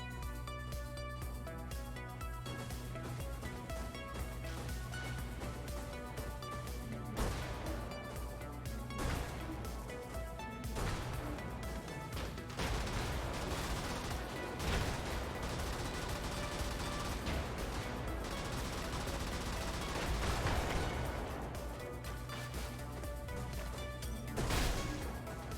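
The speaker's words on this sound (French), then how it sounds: "Ça explose. Vraisemblablement, ça explose." Explosions and gunfire in the game Brigador, a dense wash of rumbling blasts and rattling shots under steady music, fairly faint, with louder bursts punctuating the mix.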